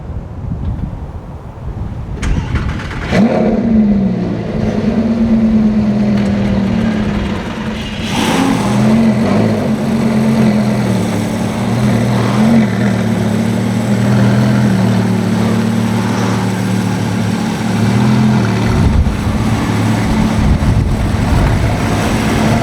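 Lamborghini Gallardo cars being driven, a loud continuous engine drone from inside or close by, mixed with wind buffeting on the microphone and a pitch that rises and falls as the car accelerates.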